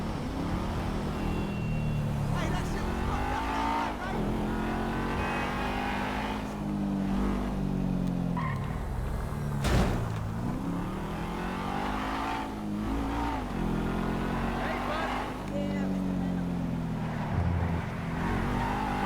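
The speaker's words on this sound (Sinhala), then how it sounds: "මේ ෆ්‍රෑන්කින් කරන්නේ කාර් එක උස්සලා ගෙනියලා දෙන එක තවත් කාර් ෂොප් එකකට ලැමර් එක" A car in Grand Theft Auto V is driven to a car shop, its engine revving and easing in repeated surges as gears shift. The engine runs continuously at moderate loudness, with no speech.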